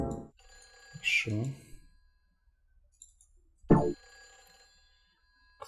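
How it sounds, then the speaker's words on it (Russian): Telephone with a torn cord ringing in the horror video game Silent Hill 4: The Room, two separate bright ring bursts a few seconds apart over quiet ambience, with a brief voice between them. "Кто-то звонит по телефону с оборванным шнуром"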